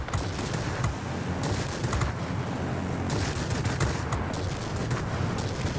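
Rapid bursts of automatic aircraft cannon fire from a World of Warplanes Me 209 A rattle continuously with sharp cracks layered over a dense rumbling background, steady and fairly loud.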